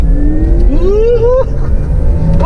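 A Porsche Taycan electric car launches hard at Sepang circuit, its motor whine climbing steeply in pitch in rising sweeps over a loud rumbling cabin, with a voice heard over it.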